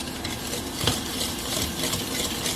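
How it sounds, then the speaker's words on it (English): A whisk stirs carrot cake batter with cinnamon in a bowl, making a steady, close, soft scraping and swishing that runs unbroken throughout, with one slightly louder clink near the start. "Now I'm going to come with my whisk, and I'm just going to mix it all together"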